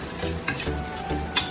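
Chicken being stirred with masala in a pan while cooking butter chicken, a steady scraping stir over faint sizzling with a couple of sharper utensil clicks, close and moderately quiet, no talk.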